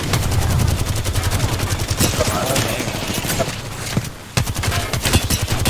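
Rapid bursts of automatic gunfire from the video game Apex Legends, a dense, loud, continuous stream of shots with brief pauses, while a player speaks over it.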